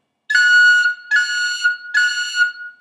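Tin whistle played with a high F cut, three separate notes each with a quick grace-note flick at its start, clear and close with no talk.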